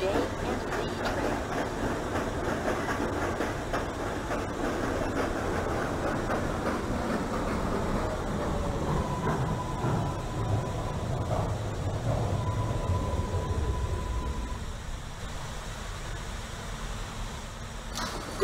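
An M local subway train in a train simulator rumbles and clatters steadily along the track, the roar slowly easing as it decelerates, with a brief tone and station announcements over it.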